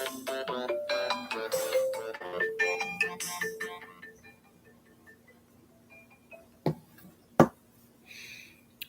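A phone's melodic ringtone for an unknown caller plays loudly for about four seconds during an indoor quilting session, then stops, followed by a couple of sharp clicks and knocks.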